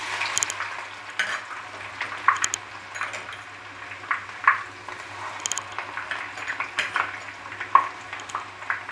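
Garlic crackles and sizzles in hot oil while making spicy Schezwan sauce, with bursts of spattering, quiet stirring and light clinks of a utensil against the pan.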